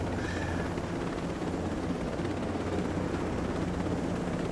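A helicopter in flight in the video game Ghost Recon Breakpoint, a steady, loud rotor and engine roar that holds continuously throughout with no voices.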